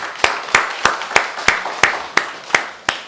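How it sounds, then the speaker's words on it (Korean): A church congregation at a Sunday worship service claps together in a slow, even beat, nine sharp unison claps at steady intervals, close and loud with no talking. "여기까지 인도하신 하나님께 우리 박수로 영광을 올리겠습니다."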